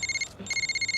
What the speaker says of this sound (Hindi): उनका ही फोन है।